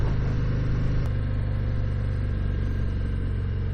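A 2019 Harley-Davidson FXDR motorcycle cruising at 50 mph in third gear, a steady loud low rumbling engine drone with wind noise, constant and close throughout.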